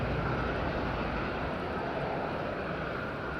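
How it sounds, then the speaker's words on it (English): A Ryanair Boeing 737 MAX 8 on landing at Madeira Island Airport gives a steady, loud jet engine roar that stays constant throughout with no talking. "Ryanair clear to land from Stansted. That's a 737 MAX 8."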